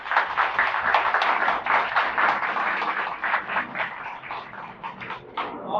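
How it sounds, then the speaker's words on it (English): A live audience gives a sustained round of applause at a Memorial Day event, broad dense clapping that stays fairly steady and slowly thins toward the end, with no talking over it. "Let's give him another round of applause."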